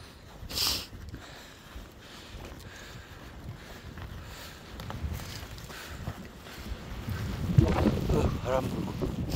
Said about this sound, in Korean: 바람 불고 난리 났네 이제.